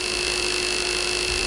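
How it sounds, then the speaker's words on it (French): An electric fan runs next to a piezoelectric vibration sensor taped to a table, giving a steady, even hum with a constant mains-like drone and a smooth airy wash, with no voices. "Donc là, on va utiliser un ventilateur."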